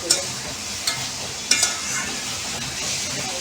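Spices sautéed in a pan for a raw banana and potato curry, with splashes of hot water added, give a steady close sizzle and a few sharp stir clinks standing out over the frying hiss.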